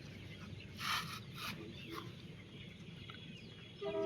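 Young Tiger and Fayoumi chickens on a poultry farm peck at their evening feed, giving a few soft, scattered clucks over a steady low background hum.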